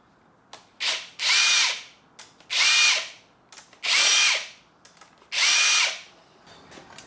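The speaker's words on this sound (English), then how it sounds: "So I'll just loosen these bolts off, and we'll just get these bolts out" A power tool loosening cam cap bolts on the cylinder head of a 2011 Honda CB400SF engine, heard as four loud, close whirring bursts of about a second each, with short trigger blips and quiet pauses between them.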